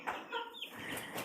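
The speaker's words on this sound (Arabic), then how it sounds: "انا اول مرة صراحة اشوف فراخ سودا كده" Small black chickens kept in a home flock cluck and chatter softly in a short series of calls, fairly quiet and with no talk over them.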